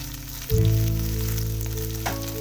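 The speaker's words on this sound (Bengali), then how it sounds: "একটা গোটা পেঁয়াজ আমি কুচি করে রেখেছি সেটা আমি তেলে দিয়ে দেব" Chopped onion, with green chillies, hits hot oil for a Bikrampur-style prawn dish. A loud sizzle bursts in at once, settles into steady frying, then flares again briefly near the end, with no talking.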